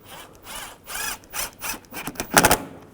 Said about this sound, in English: And put these screws in.